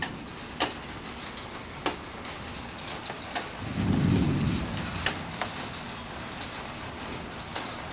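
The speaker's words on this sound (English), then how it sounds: "Here comes the rain. That's big drops too, look at it." Heavy rain with big drops falling steadily in a storm, broken by sharp intermittent cracks and one brief low rumble of thunder near the middle.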